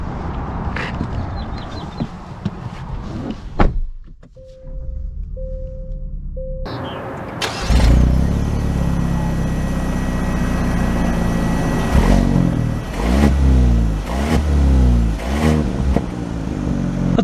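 A 2023 Genesis G70 Sport Prestige with the 2.0-litre turbo engine starts up with a loud surge, settles to a steady idle, then pulls away with rising engine sound and a few accelerating revs.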